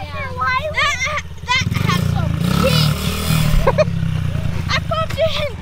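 A small motorcycle revving in third gear, its engine drone rising and steady under excited voices of people talking nearby throughout.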